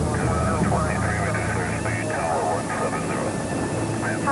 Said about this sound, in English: After lengthy delays, Colgan Flight 3407 finally gets clearance for takeoff.